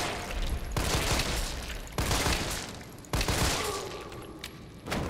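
Gunfire in the Resident Evil 3 Remake video game: loud, close bursts of rapid shots in several separate volleys, each cutting off sharply before the next, with no talk over them.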